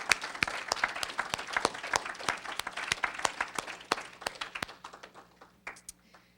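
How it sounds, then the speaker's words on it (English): Scattered audience applause for teachers at a school district board meeting, sparse individual claps from a modest group in a room, distinct and rhythmic at first, then thinning out to a few last claps. "Give them a round of applause"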